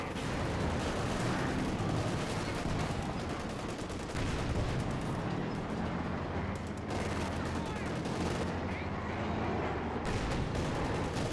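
Tank cannon fire in the strategy game Company of Heroes 2 as a German armored vehicle shoots at a wall, loud sustained battle noise with dense shot bursts and rumbling blasts, likely under faint commentary.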